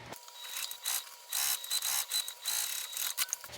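A sewing machine top stitches a slip pocket on a striped tote bag, running in short close bursts of rapid mechanical chatter separated by brief pauses.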